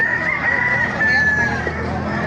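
A sinibalang gamefowl rooster crows once in a long drawn call at a market in Baliuag, the crow fairly close and loud over steady crowd and market background noise.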